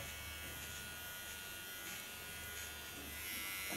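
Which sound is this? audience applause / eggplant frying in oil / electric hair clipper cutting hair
electric hair clipper cutting hair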